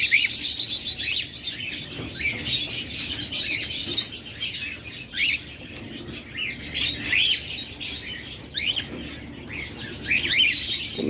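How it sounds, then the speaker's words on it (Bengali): A pair of grey cockatiels chirp continuously in a cage, their bright, overlapping calls and tweets filling the space at close range, with occasional fluttering wings and no talk. "মাস্টার পেয়ার গ্রে ককেটেল যারা খুঁজেন তারা এই পেয়ারটা দেখতে পারেন"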